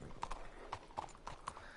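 Hooves of a horse named King David clip-clop in a western video game, a steady moderately paced walking rhythm of distinct knocks over faint ambient background, fairly quiet throughout.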